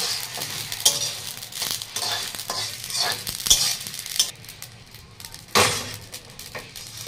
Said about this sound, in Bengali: মশলাটা পুরোটাই ভাজা হয়ে গেছে সব